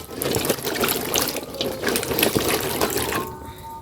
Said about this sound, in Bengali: শুধু ভেন্ডিগুলো ভালো করে ধুয়ে নিয়ে কেটে নেবো